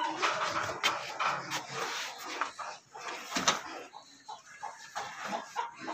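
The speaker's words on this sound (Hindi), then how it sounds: "मुर्गी है और ये खाना खा रही है" A brooding hen feeds close by, giving soft clucks among scratching and rustling noises, with a few sharper knocks.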